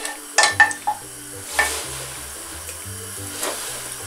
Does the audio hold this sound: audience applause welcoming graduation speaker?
no